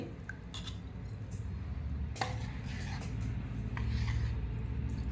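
A spoon stirs chopped ginger into oil in a metal pot for Telangana-style mango ginger pickle, giving a steady rasping scrape with occasional sharp metallic clinks.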